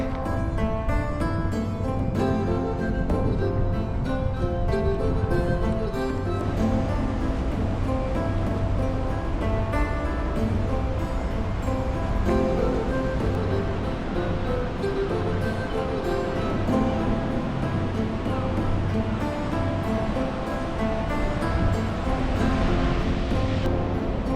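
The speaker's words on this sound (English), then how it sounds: "That's a spillway from the Yukon Dam, Yukon River Dam." Water roars steadily over the Yukon River Dam spillway, a loud, continuous broadband rush with no breaks, close by and unbroken by talk.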